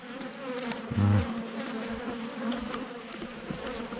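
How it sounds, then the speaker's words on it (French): Steady insect buzzing from many honeybees attacking a hornet, close and continuous, with a brief louder burst near the start. "Elles sont en train de se venger là, les abeilles."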